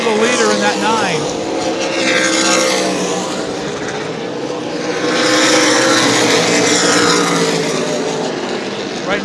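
Race cars lapping an oval track during the 2018 Clyde Hart Memorial 100: loud engine roars swell and fade as cars pass, with rising and falling pitch, continuous throughout under a race commentator's voice.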